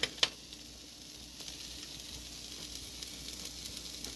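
Fries sizzling in a pan before meat is browned, a steady close, soft frying hiss with a couple of sharp pops and faint stirring clicks, no talking.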